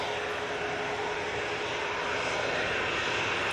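An EasyJet airliner bound for Pisa moves onto the runway, its engines producing a loud, steady whine and roar with a sustained tonal hum, uninterrupted and close.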